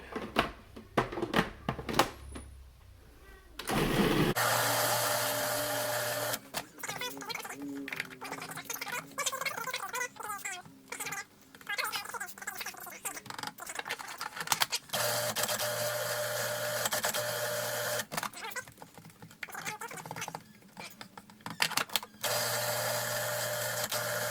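A food processor purees cooked vegetables for veggie fritters in bursts: short whirring pulses at first, then long loud grinding runs broken by brief pauses, close to the microphone.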